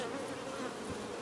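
Honey bees swarm densely over a hive frame, giving a brief, quiet, steady hum of many wings close by.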